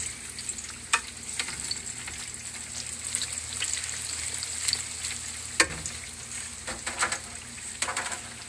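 Eggplant frying in hot oil, a steady close sizzle and crackle with scattered sharp pops and spatters, no voices.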